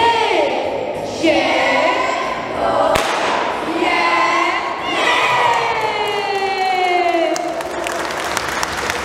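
Schoolchildren shouting thanks together in a loud chorus at the opening of a primary school gymnasium, with crowd cheering and applause. The voices surge in several waves and stay loud throughout.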